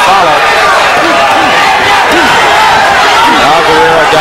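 A boxing arena crowd roaring loudly and steadily, a dense wall of cheering with a commentator's voice speaking over it throughout.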